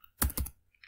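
Two quick clicks of typing on a computer keyboard, close and crisp, with brief silence around them.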